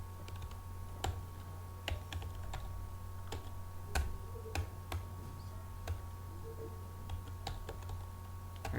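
Typing C++ code on a computer keyboard produces sparse, irregular key clicks and taps at moderate distance, spaced well apart over a steady low electrical hum, with no talking.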